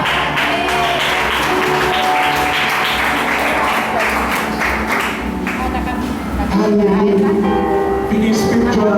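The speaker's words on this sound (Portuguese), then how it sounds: "Vamos dar uma salva de palmas para Jesus." A church congregation applauds at Igreja Nova Aliança em Cristo, a dense loud burst of clapping that fills most of the clip before tapering off as a voice begins speaking near the end.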